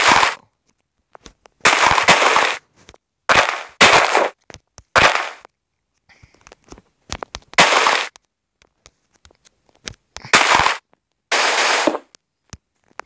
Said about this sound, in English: I'm planning to start off with a TNT explosion to my intro